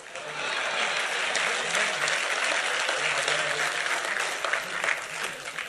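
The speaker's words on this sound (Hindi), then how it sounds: "लेकिन अब आपकी तालियां उठनी चाहिए" An audience at a Hindi poetry recital breaks into dense, sustained applause that stays strong and even for several seconds before thinning slightly at the end.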